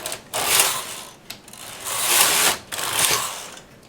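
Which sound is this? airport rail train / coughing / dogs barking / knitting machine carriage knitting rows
knitting machine carriage knitting rows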